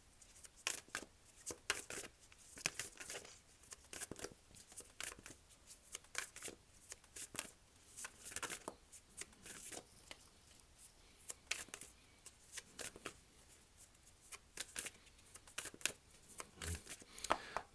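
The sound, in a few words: shuffling tarot cards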